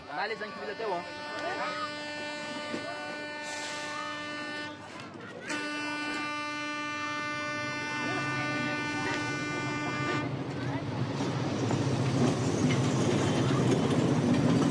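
A passenger train in Madagascar pulls away along the rails, with a long, loud horn blast followed by rising clatter and rumble as it picks up speed.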